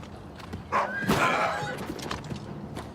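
In the remastered Oblivion video game, a horse gives a shrill whinny up close, with faint hoof clops and ambient game noise around it.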